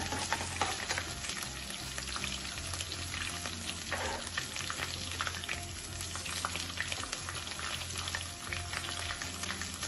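Chopped ginger and garlic frying lightly in a pan for Punjabi mattar paneer give a dense, continuous sizzle with crackling spatter and a few stirring scrapes, close and steady throughout.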